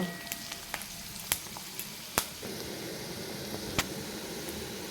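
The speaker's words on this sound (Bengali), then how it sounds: "পেঁয়াজটাকে একটু লাল লাল করে ভেজে নেবো প্রথমে" Onions frying in a pan until reddish, a steady close sizzle with occasional sharp pops and crackles, no talking over it.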